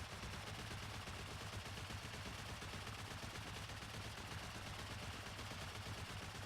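Explosive-bullet gunfire in the Rust video game during a base raid, a dense continuous rattle of rapid shots at steady loudness throughout, with no talking.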